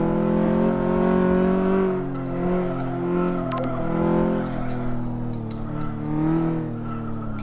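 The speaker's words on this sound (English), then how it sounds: "That's a wheel spin off the line" Wheel spin off the line in Car Mechanic Simulator 2015: a car engine revs hard and holds a strained, wavering drone while the tyres struggle for grip, loud and continuous throughout.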